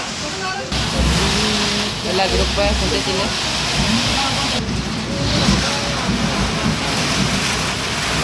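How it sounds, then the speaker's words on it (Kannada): Heavy rain pours down steadily and loudly outdoors during a delayed cricket match, with a voice speaking briefly over it. "ಫುಲ್ ಹೆವಿ ಮಳೆ."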